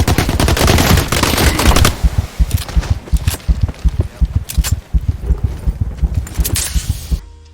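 Rapid gunfire from the shooter game The Cycle: Frontier: a dense automatic burst up front, then sharp shots in quick irregular bursts, loud and close.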